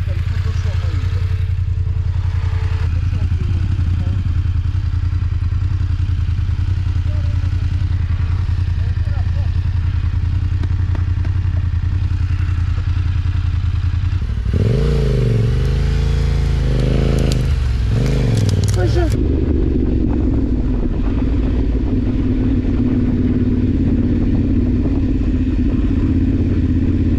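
A motorcycle on an adventure ride idles close by with a low, steady rumble while its idle speed is raised, and the engine note rises and changes partway through amid clattering and rustling, with a rider talking over it.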